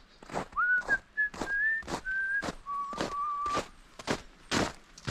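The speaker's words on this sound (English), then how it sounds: "I'm whistling because I'm nervous being in a woods that I never been before." A person whistles a slow, wandering tune while walking through winter woods, the whistle held in long steady notes over regular crunching footsteps close by.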